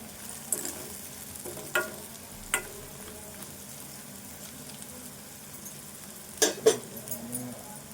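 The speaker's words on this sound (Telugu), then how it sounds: "ఉల్లిపాయ, పచ్చిమిర్చి అంతా మంచిగా దోరగా వేగాలి." Onion and green chili frying in oil for a tempering, with a low steady sizzle and a few sharp clinks and stirring scrapes, heard close with no talking.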